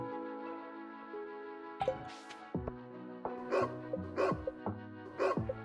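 A guard dog in the video game Stardew Valley gives several short barks at uneven intervals over a soft, tonal game music background, with no talking.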